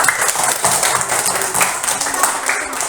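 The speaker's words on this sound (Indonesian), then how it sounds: "Tepuk tangan dulu anak-anak." Schoolchildren in a classroom clap together in a quick rhythmic pattern, bright repeated bursts of claps close to the microphone, continuing steadily with some chatter mixed in.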